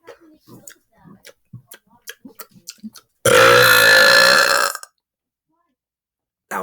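A long, loud, rasping burp lasting over a second, preceded by soft clicks and mouth noises and followed by silence.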